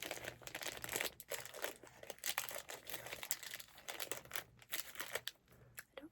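A plastic sleeve crinkles and crackles close up as an ink item is slipped back inside, with bursts of sharp rustling and soft handling noises, quiet and intimate with no talking.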